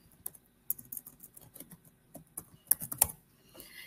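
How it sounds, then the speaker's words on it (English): Fingers type on a computer keyboard in quick, uneven bursts of close, faint clicks and taps, with short pauses between runs of keystrokes. "you can just type whatever you want to type here"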